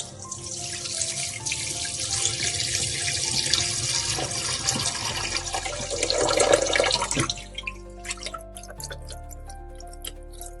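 Tap water gushes into a sink while raw chicken is washed, a loud splashing stream for several seconds that cuts off, leaving scattered drips and small clinks.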